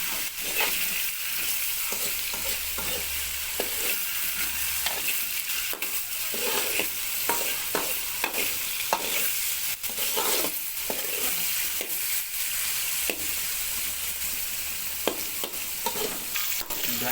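Bitter gourd, potato and pointed gourd frying in hot oil, a steady close sizzle broken by frequent scrapes and clacks of stirring throughout, with no voices.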